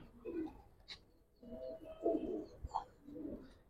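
Pigeons, a pair of giribaz and coloured pigeons for sale, coo in soft low bursts at close range amid a faint high chirp and background movement.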